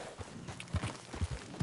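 Horse hooves clip-clop at a walking pace in Red Dead Redemption 2, a handful of soft, low thuds spaced unevenly over a short stretch, fairly close with faint background ambience.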